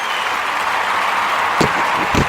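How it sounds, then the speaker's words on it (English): Audience applause during a basketball podcast episode, a steady wash of clapping with a couple of sharper thumps near the end, with no talk over it. "Round of applause."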